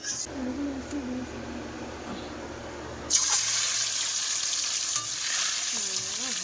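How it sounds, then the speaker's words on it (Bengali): Roe-filled tengra fish fry in a large wok with a low sizzle, then a sudden loud burst of spitting, crackling oil that keeps going with stirring clatter; a voice is briefly heard at the start and near the end. "তো আগে এই ডিমওয়ালা ট্যাংরা মাছগুলো ভাজবো।"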